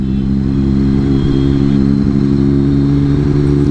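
A Triumph Street superbike engine while riding, a loud, close, steady low drone with a constant throbbing hum and no break in tone.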